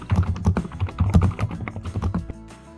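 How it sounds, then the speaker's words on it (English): A computer keyboard clatters with steady, rapid keystrokes while someone types a search in Windows 11, close and clear, the run ending in a brief pause, with no voices. "In the search field, type Control panel."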